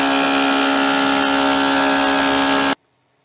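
Thickness planer running a glued wood panel through, a loud steady mechanical roar with a sustained whine that continues unbroken for almost three seconds and then cuts off abruptly into silence.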